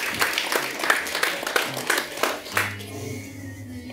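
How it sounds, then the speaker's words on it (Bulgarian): Audience at a data science talk applauds, a brisk burst of clapping from many hands that stops abruptly partway through, leaving faint low hum. "За аплодисменти."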